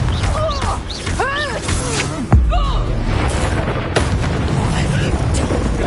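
A Confringo fire-blast spell bursts with a sharp, loud boom partway through a Hogwarts Legacy duel, set amid ongoing combat noise and in-game character voices.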